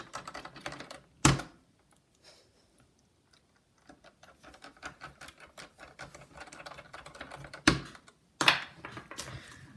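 Small screws being driven into a laptop hinge during a repair of a dead-GPU laptop: a run of light, quick ticking clicks close to the microphone, broken by a few louder sharp knocks, with no talking.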